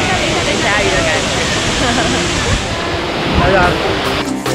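Small waterfall heard up close as a dense, steady rush of splashing water, loud and unbroken throughout, with faint voices near the end.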